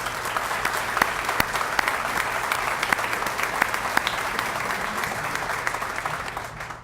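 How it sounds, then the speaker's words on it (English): Audience at a community event on new immigrants applauding: dense, steady clapping from a sizeable crowd, with a few louder individual claps standing out, fading slightly at the end. "Let's give them a round of applause."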